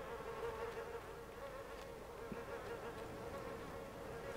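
A swarm of flies drones steadily in the video game Little Nightmares 2, a constant close buzz running throughout with a few faint clicks and thumps underneath and no talking.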